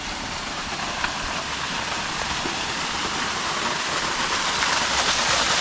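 A waterfall near Ella plunges down a rocky drop, giving a steady broadband roar of rushing water that stays constant and fairly loud, swelling slightly toward the end, with no talking.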